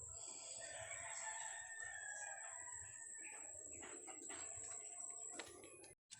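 A bantam rooster crows in a rural yard, its long, drawn-out call fairly clear against faint background sounds, with a short cluck near the end.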